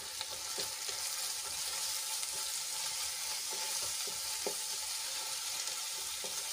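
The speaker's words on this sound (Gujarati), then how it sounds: "બધા મસાલાને આપણે એક મિનિટ માટે સાંતળી લઈશું જેથી કરીને મસાલા સરસ રીતે સંતળાઈ જાય" Spices frying in hot oil for a gravy, a steady close sizzle with scattered faint clicks of stirring, no voices.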